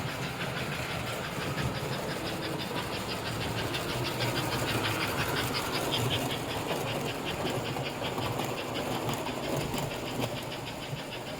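A 1954 American Flyer #287 Pacific model steam locomotive runs steadily and very fast, giving a continuous whirring mechanical hum with a rapid rhythmic chuffing texture throughout.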